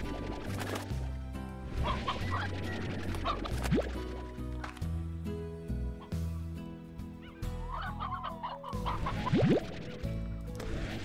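Chickens clucking in the video game Slime Rancher, several birds in short bursts over a steady game soundtrack, with occasional brief crashes and no talking.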